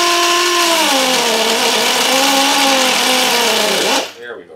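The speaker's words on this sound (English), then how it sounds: "And I'm going to start with the die grinder." A die grinder with a 100 grit disc removes glue on a 1976 Martin D-28 acoustic guitar. It gives a loud, close, steady high-pitched whine for about four seconds, then the pitch wavers and it spins down.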